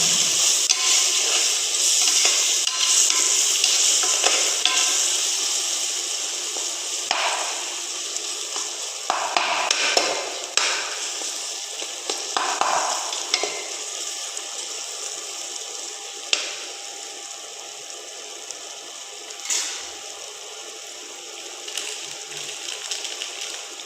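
Spices and garam masala are stirred into biryani masala frying in oil, a steady close sizzle with intermittent scraping strokes of the spoon, loud at first and easing slightly over time, with no voices.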